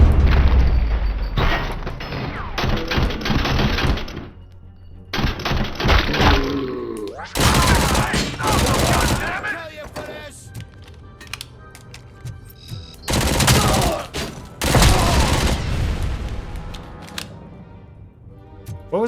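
Gunfire in the video game RoboCop: Rogue City: repeated loud bursts of shots and heavy booms alternate with quieter gaps, with no talking.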